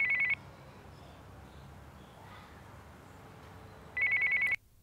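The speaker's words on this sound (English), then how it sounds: "Next, we looked at a cordless phone." A cordless phone rings near a Sennheiser AVX wireless microphone receiver. Two short bursts of a warbling electronic trill are heard, one at the start and one near the end, with a long quiet gap between them.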